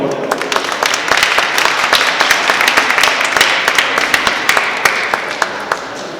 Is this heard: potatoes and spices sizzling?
no